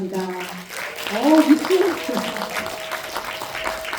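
An audience at a presentation contest in Incheon applauds to welcome the next presenter, a short burst of clapping heard under an emcee's voice.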